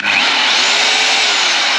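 An Einhell TC-RH 800 4F rotary hammer drill runs continuously at close range, giving a loud, steady high-pitched whine and buzz that holds constant for just under two seconds.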